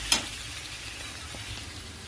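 Marinated chicken frying in a masala of fried onion, ginger-garlic and tomato, giving a steady soft sizzle throughout with a brief scrape near the start, fairly quiet and close.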